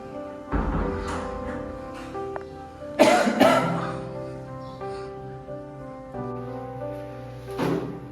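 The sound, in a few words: coughing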